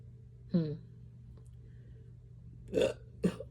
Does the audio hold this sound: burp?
yes